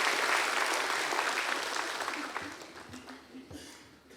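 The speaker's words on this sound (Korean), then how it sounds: "나오실 때 박수로 환영하겠습니다." Audience applause welcoming a pastor and a missionary to the pulpit at a Sunday church service, a steady wash of clapping that fades gradually over several seconds.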